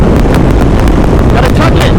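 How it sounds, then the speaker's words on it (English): Strong wind buffets the microphone during a group ride through a sandstorm, a loud continuous roar with gusty rumbling that never lets up. "Just gotta get away from this pocket of wind and we'll be good."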